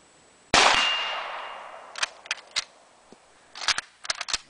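A single sharp metallic clang rings out from a steel gong downrange as a Type 38 Arisaka 6.5x50SR rifle round strikes it, decaying over about a second and a half, followed by several fainter knocks and clicks.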